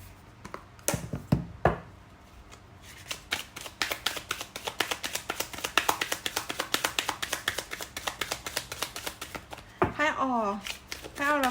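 Oracle cards are shuffled in a dense run of quick papery flutters and taps, with sharper clicks early on and a few seconds of near-continuous riffling; a brief voice-like chirp rises near the end.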